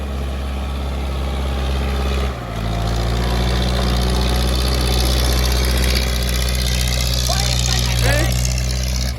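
A tractor engine idles loudly and steadily with a deep rumbling drone, briefly dipping then continuing at a constant pitch.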